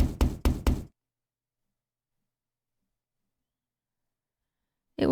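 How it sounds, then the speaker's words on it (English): Knocking on a door inside a mansion in the video game The House in Fata Morgana: four sharp, evenly spaced raps, close and distinct, then a long silence before a brief burst of speech at the end. "Sound of knocking echoed through the mansion"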